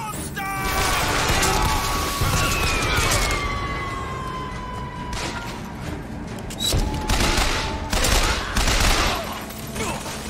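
Machine gun fire from the Bioshock Infinite video game, with rapid bursts rattling over a busy mix of mechanical whines and game effects. The bursts are loud and close, and the noise continues throughout.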